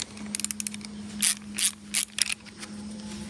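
A ratchet wrench turns to loosen a car's drain bolt held by a stuck drain washer, giving quick close clicks at first and then several louder, separate ratcheting bursts over a faint steady hum.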